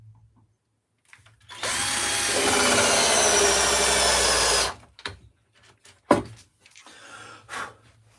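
A battery-powered drill drives a screw into wood during a garden stool build, with one loud, steady whir of about three seconds followed by a few sharp knocks and handling clatters.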